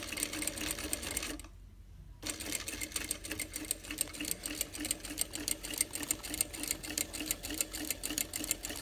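Sewing machine running at very low speed while attaching a raw edge binder: a steady, even mechanical clatter of needle strokes with one short pause near the start, then continuing in a regular rhythm.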